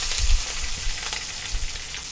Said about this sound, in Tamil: இப்ப வெங்காயம் பச்சை மிளகாய் அந்த கருவேப்பிலை ஆட் பண்ணி பண்ணிட்டுருக்கீங்க